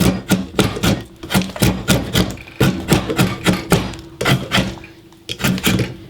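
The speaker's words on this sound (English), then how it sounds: "I start on each side, chamfer it down instead of coming with one big chunk here." A drawknife chamfers and contours a piece of wood with quick, rhythmic strokes, each a sharp scraping cut in a close, loud series with brief uneven gaps, and nobody talking.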